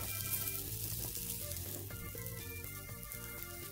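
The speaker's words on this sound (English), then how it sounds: "now that we have the space on the grill, we add the onions and the bacon." Onions and bacon sizzle on a grill for a burger, a steady close crackle with no talk over it.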